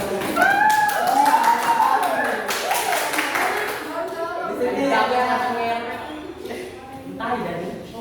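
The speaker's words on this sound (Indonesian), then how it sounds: "Berikan tepuk tangan." A classroom audience claps, a quick burst of taps and applause mixed with voices and chatter, as pupils respond during an economics lesson.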